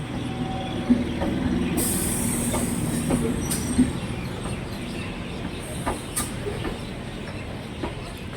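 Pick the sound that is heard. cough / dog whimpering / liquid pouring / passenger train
passenger train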